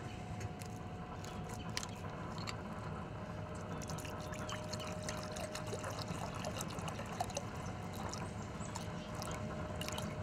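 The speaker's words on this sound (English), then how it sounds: "we're going to put us a little Dasani water in it" Dasani water is poured into a bowl of chicken injection mix for chicken legs, making a steady, soft trickle and splash that runs unbroken for about ten seconds, with no voices.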